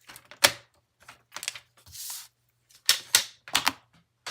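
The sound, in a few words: cutting paper for a card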